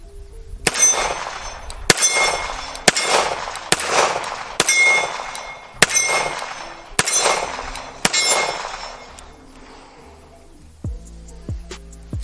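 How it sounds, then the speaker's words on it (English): A Dan Wesson Valor 1911 .45 pistol fires about eight sharp, loud shots at an outdoor range, spaced roughly a second apart with ringing tails, followed by a few fainter metallic clinks. "let's keep putting some rounds down range and get a feel for the 1911"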